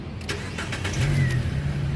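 A 2013 Nissan Grand Livina 1.5 Highway Star automatic starts up close by: a brief starter crank, then the engine catches and settles into a steady idle hum.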